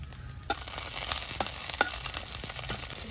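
Onion and green chillies frying in a little oil for a tempering, a close steady sizzle broken by a few sharp crackles and light stirring clicks, with no voices.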